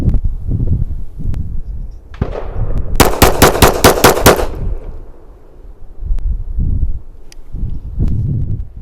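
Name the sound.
rapid fire of .45 ACP 1911 pistol with jacketed soft points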